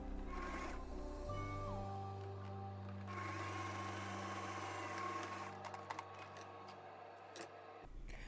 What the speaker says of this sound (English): Sew along the raw edge through all 3 fabric layers.